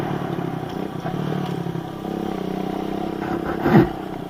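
A dirt motorcycle rides off-road trails, its engine droning steadily with rattling clatter, then a brief louder rev surges near the end as the rider works on wheelies.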